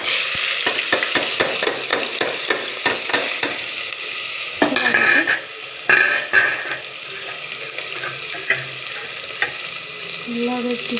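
Onions stir-frying in a pan for masala rice, a steady loud sizzle with a run of quick, regular spatula scrapes and knocks at first, then sparser stirring strokes over the continuous frying hiss; no voices.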